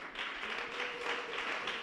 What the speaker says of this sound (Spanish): Son vamos a darle un aplauso.